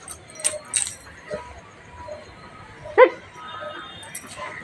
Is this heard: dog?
yes